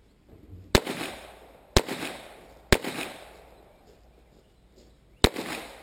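Gunshots at an outdoor shooting range during a night shoot, four sharp loud cracks spaced about a second apart with a pause before the last, each followed by a brief echoing tail.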